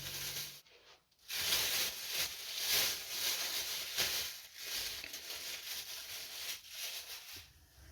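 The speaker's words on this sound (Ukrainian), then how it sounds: "підсмажечку буду робити на топленому маслі" Vegetables, onion and carrot, frying in clarified butter, a steady soft sizzle and hiss that swells and dips over several seconds with a brief gap near the start, heard close and alone without talk.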